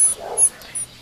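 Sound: puppy whimpering and yipping

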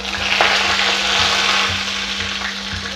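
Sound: curry leaves sizzling in hot oil

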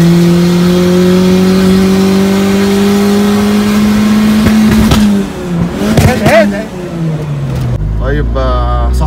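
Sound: 1992 Honda Civic turbo car revving

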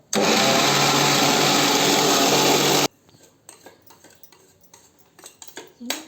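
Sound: mixer grinder grinding peanuts and chilli powder

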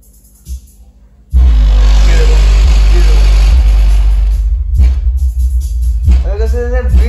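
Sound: DJ woofer speaker playing a bass beat

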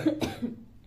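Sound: cough

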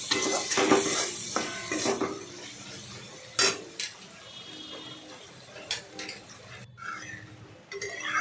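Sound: stirring coriander leaves into pabda fish curry in pan

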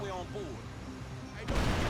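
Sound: explosion in a video game

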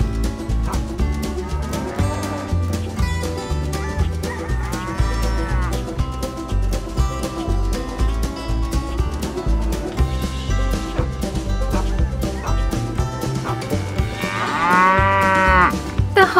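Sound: Holstein Friesian cow mooing

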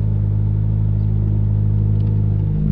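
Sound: car driving down a curb

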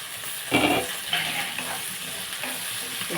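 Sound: onions frying in a pan

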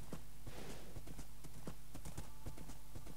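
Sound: horse galloping and landing in Minecraft video game

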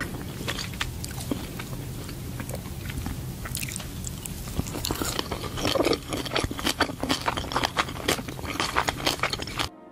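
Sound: eating sushi in a video game

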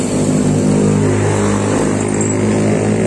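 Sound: motorcycle engine being kick-started

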